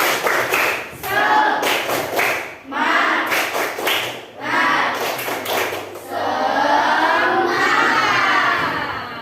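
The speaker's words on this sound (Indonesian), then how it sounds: "mari kita tepuk semangat ya" Classroom children perform a rhythmic spirit clap chant, bursts of shouted chanting alternating with sharp group claps in a steady pattern, loud and close, ending in a sustained collective shout.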